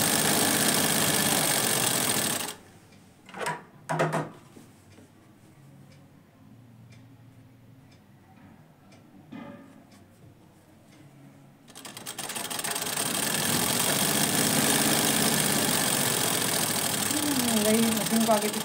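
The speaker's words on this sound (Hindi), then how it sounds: "मशीन को आगे पीछे करते हुए, पक्का सिलाई को लॉक करते हुए।" Sewing machine stitching two pieces of fabric, running in a fast, continuous whir at the start and again in the final stretch, with a quiet pause between and a voice talking over it.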